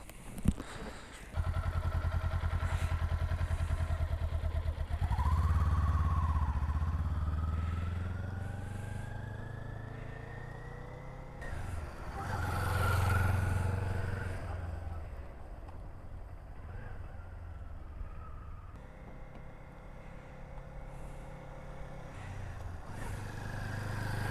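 A Kawasaki Z400 motorcycle ridden with light throttle gives a steady engine drone that rises smoothly in pitch, eases off and then climbs again, mixed with wind rush on the microphone. The rider is not heard talking.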